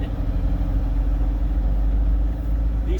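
A tractor-trailer truck rolls through a shopping center, its heavy diesel engine droning low and steady close by, with no voices over it.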